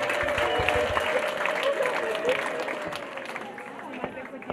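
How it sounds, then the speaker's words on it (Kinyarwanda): A church congregation gathered for a wedding ceremony claps together in broad, sustained applause, with crowd murmur underneath, fading slightly toward the end. "dukome amashyi tuyakomera Imana"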